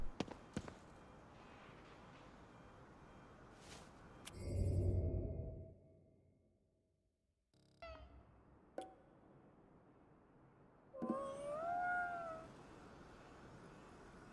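A cat in the video game Ghostwire: Tokyo gives a clear, rising-and-falling meow near the end, following a muffled thump, some clicks and a quiet stretch.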